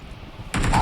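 A shotgun fires in PUBG on the Sanhok map: a sudden loud, close blast after a stretch of low background, ringing on briefly.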